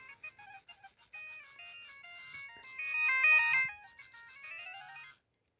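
A Nokia 3120 or 1650 mobile phone plays a bright electronic ringtone melody of quick tonal notes. It is fairly quiet and plays alone, then cuts off into silence.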